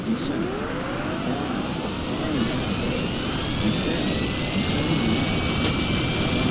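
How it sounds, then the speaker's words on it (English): Airplane engines drone as a steady loud roar with rising whine tones, continuous and close, used as a sound effect in a radio drama. "Wow, listen to those engines."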